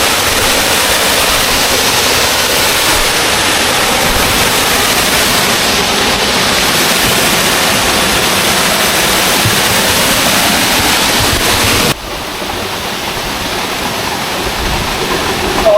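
Waiau Waterfall in the Coromandel pours continuously, a dense, loud roar of rushing water filling the whole stretch without pause.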